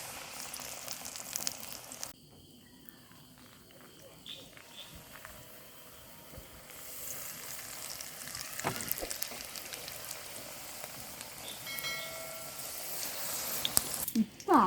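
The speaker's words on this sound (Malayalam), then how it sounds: "എണ്ണ നന്നായി ചൂടായിട്ടുണ്ട്. ഇനി അത് വറുത്തെടുത്തോ?" Skewered pumpkin tikka fries in hot oil with a quiet, continuous sizzle and light bubbling that swells a little toward the end, heard close but faint.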